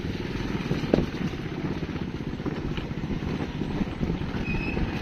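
A motorcycle engine runs continuously while riding along a narrow cliffside road, close and steady with a rough rumbling tone and slight variations in throttle.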